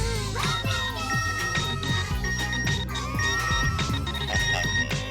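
A mobile phone ringtone plays as a melodic electronic tune that rings on steadily and fairly loud across the whole moment, with no voices over it.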